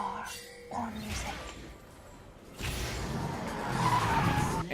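A sports car driving out into open country, with tires skidding and squealing in a loud rushing burst that builds toward the end after a quieter stretch.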